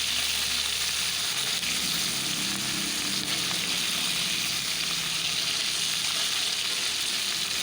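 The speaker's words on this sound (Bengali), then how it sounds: "দেখতে পাচ্ছি আমি একটা একটা করে মাছ আস্তে আস্তে উল্টে দিচ্ছি যাতে দুই পাখি ভালোভাবে ভাজা হয়" Fish pieces fry in a pan as they are turned over one by one, giving a constant loud sizzle with faint stirring and scraping underneath.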